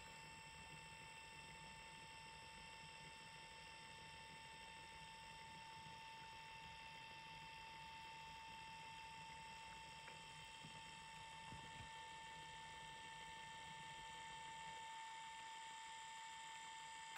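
A small portable photo printer feeds out a photo with a quiet, steady mechanical whine and faint motor hum that hold evenly throughout, with a couple of soft clicks near the end.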